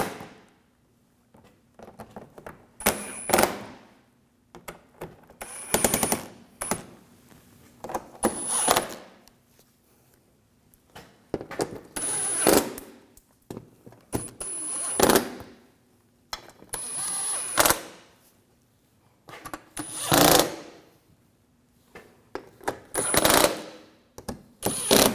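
Screws on the front upper grille of a 2007–2013 BMW 328i being tightened with a ratchet, in repeated bursts of close, rapid clicking separated by short pauses.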